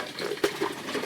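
Cola poured from a bottle into a container during a home fermentation test, a brief liquid splash rising at the middle of a quiet, close-up stretch.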